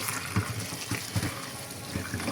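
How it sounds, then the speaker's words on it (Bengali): Tap water running steadily into a sink while dried shrimp are rinsed by hand, with small splashes and knocks breaking through the continuous flow. "মাছগুলা শুটকিগুলো আগে ধুয়ে নিব।"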